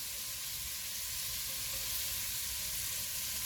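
Small onions and ginger hiss in a hot pan for deep-fried cheese curry, a steady dense sizzle holding at an even level throughout, with no voices.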